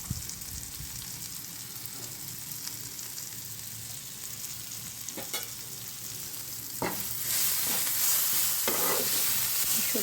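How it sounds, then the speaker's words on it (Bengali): Spice masala with cumin powder and chili flakes sautéing in a pan, a soft continuous sizzle with intermittent stirring scrapes that grow louder and busier toward the end. "মশলা ভালো কষানো হয়ে গেছে।"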